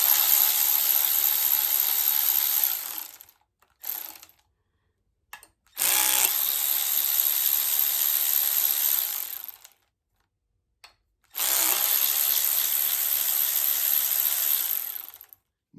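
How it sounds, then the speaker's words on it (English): Tool driving out 5mm hex bolts on a 2.0T turbo muffler, heard as three loud, close, sustained whirring bursts separated by short silences. "We're just gonna go get the ratchet in the right direction first."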